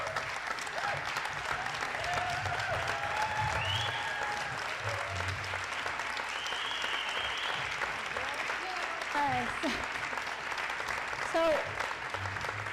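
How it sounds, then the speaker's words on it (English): Audience applause at a congressional primary debate, a continuous broad clapping wash lasting the whole stretch, with scattered voices and a brief spoken word over it. "Can we give them a huge round of applause?"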